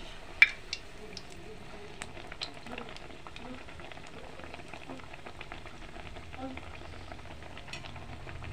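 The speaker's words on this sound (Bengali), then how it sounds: "এবার উল্টে পাল্টে ভালো করে ভেজে" Malpua made with semolina frying in hot oil while being turned in the pan, giving a quiet steady sizzle with a few soft clinks and scrapes of a utensil against the pan.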